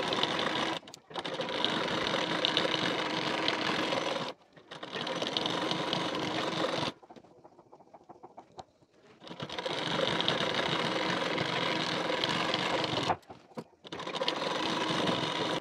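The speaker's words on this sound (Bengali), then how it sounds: "নেবার পর ঠিক এখান থেকে বসিয়ে পুরোটা সেলাই দিয়ে নেব।" A sewing machine stitches a folded waistband strip onto a collar-neck katori blouse, running in long close bursts with short stops and a quieter stretch of handling noises between them.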